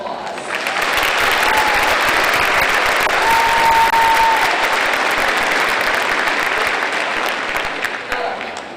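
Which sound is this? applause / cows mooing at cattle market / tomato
applause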